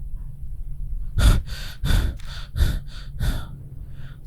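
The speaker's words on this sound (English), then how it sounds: "The only sound left is that of our shaky breathing." Shaky, ragged breathing in the horror game Spirit Hunter: Death Mark comes as a series of about six sharp, gasping breaths in uneven rhythm, close and fairly loud, with quiet pauses between them.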